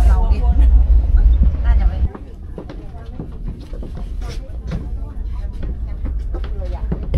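Steady low rumble and rattling inside a moving sleeper train carriage between Bangkok and Laos, with a heavier drone at first, then lighter clatter and voices talking over it.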